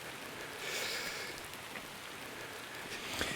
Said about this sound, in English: You notice the rain is just slowing down just as we're going indoors.